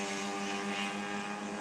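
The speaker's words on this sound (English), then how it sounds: "it's not even a moped. It's a motorized, it's a scooter with an engine." A small motorized scooter engine drones continuously at a distance on a windy day, a thin, steady buzzing hum with wind noise, faint and without talk.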